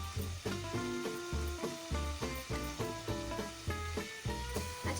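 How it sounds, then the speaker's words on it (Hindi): Spice masala and half a kilo of chopped cabbage sizzle in a frying pan for achari band gobi, a continuous soft crackling fry heard alongside steady tonal background music. "हमारा मसाला भुन रहा है।"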